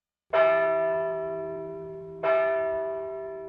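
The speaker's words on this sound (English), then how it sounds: "Suddenly, some bells began to ring." Two strikes of a large bell near a beach building, each a bright metallic clang with a long, slowly fading hum, the second about two seconds after the first, ringing alone.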